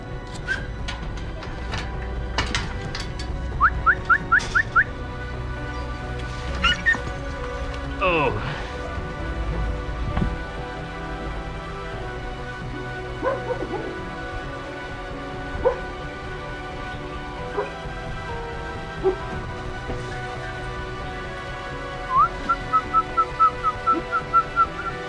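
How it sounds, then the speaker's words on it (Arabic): Several dogs bark, yip and whimper at an animal rescue shelter, with short repeated yelps and a few high whistling cries scattered over a steady background of kennel noise and voices. "هادو هما لي سيكشن ديال الكلاب اللي كاينين"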